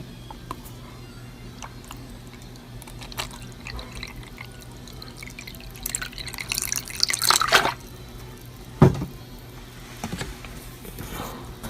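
Water drips and splashes briefly into a homemade egg incubator to add humidity, a short trickle followed by a single louder drop against a quiet room hum.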